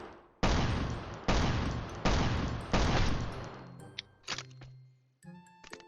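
Machine gun fire in the survival video game Last Island of Survival: four long, loud, sustained bursts in close succession, followed by a few sharp clicks and clanks of weapon handling.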